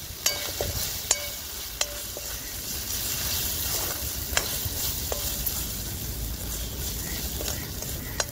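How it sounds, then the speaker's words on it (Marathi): Masala with turmeric and salt sizzles steadily in a pan over a wood-fired stove, a loud continuous frying hiss broken by occasional sharp clicks of a utensil stirring against the pan, with no talk. "परतून घेते मी मसाला."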